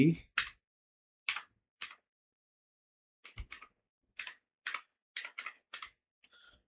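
Sparse typing on a computer keyboard: isolated, crisp keystrokes and short clusters separated by silent gaps, close and clear with no voices.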